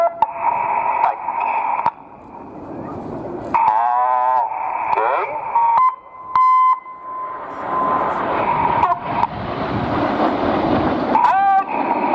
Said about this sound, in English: pressing a tone button on his radio to action the turn